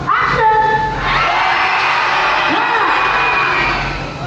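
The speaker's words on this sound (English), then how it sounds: "It's nice and quick, but a nice scream." A stunt performer screams as he drops into a snake pit during a live Indiana Jones stunt show. One loud, short yell opens the moment, followed by a broad wash of noise from the show.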